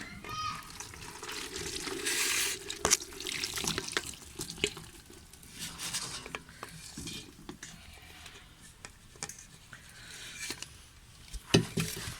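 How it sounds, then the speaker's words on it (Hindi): Water from boiled chicken is poured and strained in a kitchen, a continuous splashing, trickling pour with scattered clinks of pots, close and fairly steady throughout. "नीचे उतार के हम इन्हें जिसका पानी इस तरह छान लेंगे"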